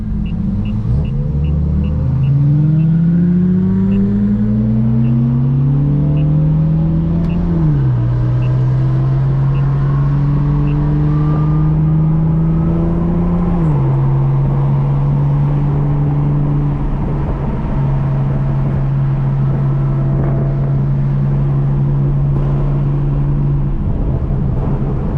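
BMW F82 M4 engine driven hard, loud and close, with a rising rev that drops sharply at a few crisp downshifts before settling into a steady droning cruise.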